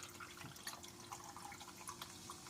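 A carbonated tangerine-flavoured drink is poured into a mug of ice, giving a faint, steady fizzing and trickling wash with no voices.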